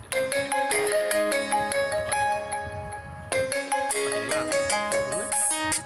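A phone's loudspeaker plays a bright melodic ringtone during a sound test, with rhythmic chiming notes, a brief pause midway, then the tune resumes, fairly clear and alone.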